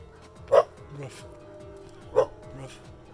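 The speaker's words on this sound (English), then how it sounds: "She's just gonna bark now because I'm coming by." Pet dog at a roadside home barking as a person passes by: two sharp, loud barks about a second and a half apart, with softer yips and whimpers between them.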